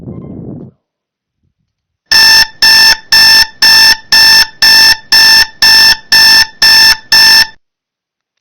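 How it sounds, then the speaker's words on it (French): An electronic alarm sounds nine loud, evenly spaced beeps in a steady rhythm after a short moment of quiet, each beep a bright, piercing tone. "Alors ça a fait bip bip"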